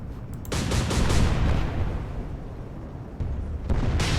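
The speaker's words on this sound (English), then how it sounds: "That was a massive explosion just happened" A massive explosion in the naval combat game Atlantic Fleet booms out as a loud, sustained low rumble lasting several seconds, with a second burst near the end, with no voices present.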